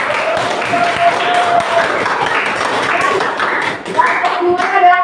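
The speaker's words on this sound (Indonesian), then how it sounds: "tepuk tangan dulu untuk kelompok POC" A school history class applauds a student group, the clapping dense and steady, with scattered taps and thumps and voices talking over it throughout.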